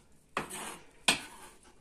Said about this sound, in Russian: сейчас мы это все кладем, значит, в уже посудину